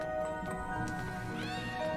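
A cat meowing in the video game Iris.Fall: a couple of clear, close meows over a steady tonal game background, with no voices.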